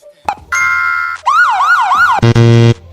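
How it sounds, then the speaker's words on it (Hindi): Electronic siren sound effects play in an editing timeline, several short bursts in a row including a rising and falling wail and flat steady tones, loud and close with no talk. "देखो 2 सायरन बज गए हमारे"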